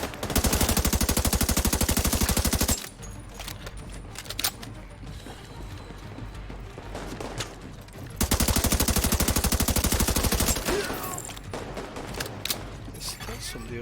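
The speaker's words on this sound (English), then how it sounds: "I'd love it if I knew where shots were coming from" Automatic gunfire in The Division 2 rattles out in two long, fast bursts of rapid shots, loud and close, with quieter distant battle noise between them.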